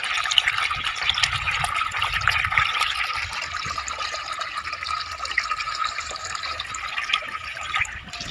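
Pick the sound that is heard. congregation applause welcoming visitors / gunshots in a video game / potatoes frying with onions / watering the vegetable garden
watering the vegetable garden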